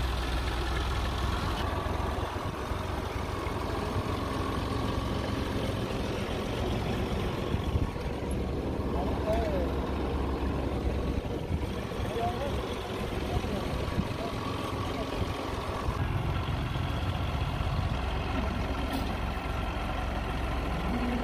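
A tractor engine runs steadily with a low, continuous rumble as it is unloaded from the top of a trolley, mixed with outdoor background noise and people talking throughout.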